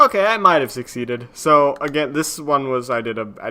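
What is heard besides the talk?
None of the usual background noises is heard.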